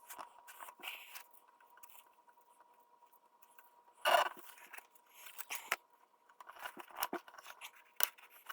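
Tape being cut off with scissors on a radial arm saw table track, a few quiet, close snips and crisp rustles between near-silent pauses, with one louder burst in the middle.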